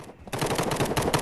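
Rapid automatic gunfire from the Hide Online shooter game, a dense burst of shots that starts abruptly after a brief quiet moment and continues loud and close.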